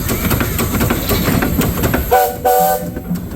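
A steam traction engine's loud, steady whistle blows in two short blasts near the end, following a stretch of heavy, rhythmic mechanical clanking from the engine at a steam power show.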